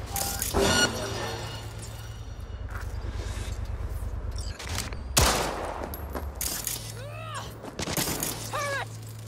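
Turret gunfire in Cyberpunk 2077 played on PS4 Slim: loud bursts of rapid shots over a low, steady game rumble, with sharp chirping sweeps near the end.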